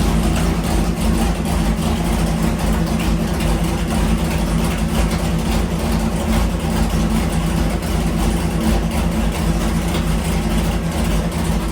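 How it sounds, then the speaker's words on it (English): A Chevy 327 V8 runs steadily on an engine dyno with a loud, close, continuous rumble and an even, rhythmic idle, with no talking over it. "His little 327 sounds pretty stout on the dyno"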